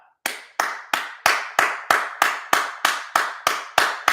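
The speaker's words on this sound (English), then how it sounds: "Can we just for a second give XRP a hand clap?" Single pair of hands clapping slowly and evenly, about twelve sharp, close claps in a steady rhythm, alone with no talk.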